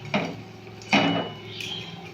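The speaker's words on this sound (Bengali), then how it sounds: "এবার একটা কাঁটা চামচ নেবেন, মাঝে একটা করে ফুটো করে দেবেন" A fork pokes into jackfruit fritters frying in a pan, giving two distinct metallic taps against the pan over a faint steady sizzle.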